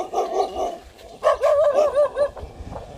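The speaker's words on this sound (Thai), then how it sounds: "ตอนนี้หมาเริ่มเห่าแล้วแล้ว" A dog barks outdoors during wild vegetable foraging in Thailand, giving a few close, loud yaps in two quick bursts, the second a string of rapid high barks.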